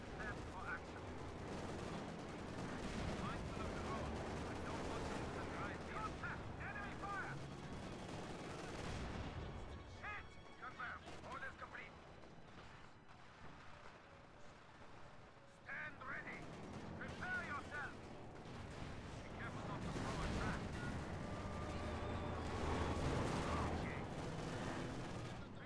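Gunfire in a shooting video game comes in dense, loud bursts and volleys, dipping to a quieter lull midway before the shooting swells again, with voices talking over parts of it.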